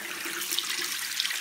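Water runs steadily into a hot tub, a brief continuous close splashing rush with no voices.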